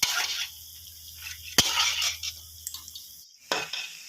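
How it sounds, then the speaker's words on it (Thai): A metal spatula stir-fries and mashes minced pork in a pan for spicy Thai basil pork with dried chilies, making sparse scrapes and clinks with two sharp metallic knocks, close and alone. "ผัดคลุกเคล้าไปเรื่อยๆนะครับ เอาตะหลิวขยี้ขยี้นะครับ"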